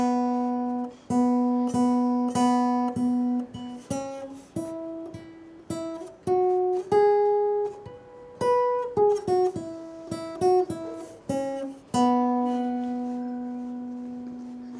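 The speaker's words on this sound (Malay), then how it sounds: "bila kamu dengar bunyi sapek kan, dia selalunya kalau dia main not ini" A sape, the Borneo lute, plays its basic melody alone: clear plucked notes stepping up and down in a steady rhythm, each ringing briefly before the next, ending on a longer sustained note.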